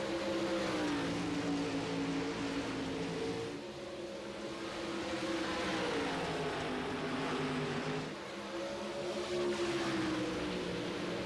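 Dirt race cars lap Volusia Speedway in a senior championship race, engines droning loudly with rising and falling pitch as the pack sweeps past in repeated waves.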